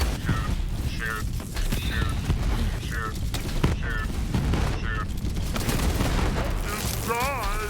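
Rapid bursts of gunfire and booms from the Psycho Krieg DLC video game, repeating in quick volleys over a dense mix of game effects and music, with a voice talking through the action.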